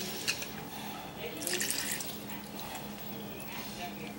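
Milk swirled around inside an empty soup can, giving a brief, quiet liquid slosh and swish up close in a kitchen.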